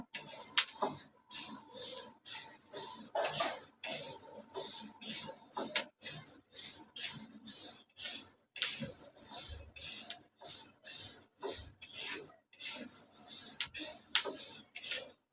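Dry horse gram is stirred constantly in a pan over a low flame while roasting, giving close, repeated rough scraping and rustling strokes in a steady rhythm with short pauses between them.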